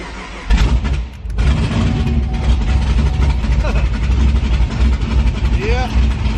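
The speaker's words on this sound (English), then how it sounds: "We're now driving on the road in the Freedom Rocket." A Camaro ZL1 engine runs as the car drives along a street, giving a loud, constant low rumble inside the cabin, with people talking over it.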